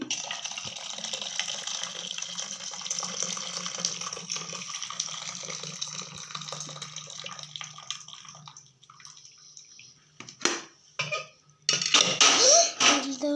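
Cooking water being poured off boiled black-eyed peas: a continuous splashing stream for several seconds, then quieter trickling and a few louder splashes and pot clatters at the end.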